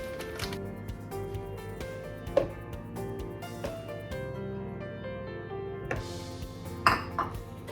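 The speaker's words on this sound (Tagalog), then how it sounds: "we'll mix together the cassava, the melted butter, and the makapuno" Cassava, melted butter and makapuno are mixed together in a bowl, with repeated clinks and scrapes of a utensil against the bowl over a low background hum, no speech.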